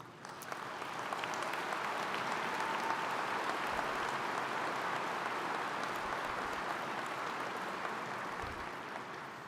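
Sustained applause from a large crowd at a university commencement ceremony, a dense steady wash of clapping that holds at full strength for the whole stretch before easing slightly at the end.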